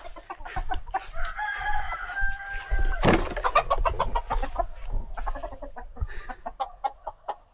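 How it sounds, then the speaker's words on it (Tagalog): A heritage chicken clucks repeatedly at close range on a small farm, with a drawn-out crow partway through and more bird calls scattered around. "Merong isang heritage chicken."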